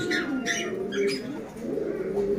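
Pigeons for sale at a Khulna pigeon dealer coo in soft, repeated throaty calls close by, with faint bird chirps above and a light murmur of background noise.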